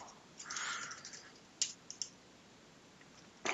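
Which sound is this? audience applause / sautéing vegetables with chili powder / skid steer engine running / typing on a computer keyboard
typing on a computer keyboard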